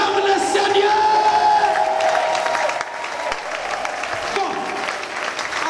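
A congregation at a prayer marathon applauds loudly and steadily, with cheers and whoops rising over the clapping. A voice talks through the crowd noise, and the applause eases off slightly partway through.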